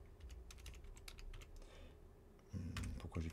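Keys clatter on a computer keyboard in quick, irregular bursts, close but soft, with a faint pause midway before the typing picks up again more firmly.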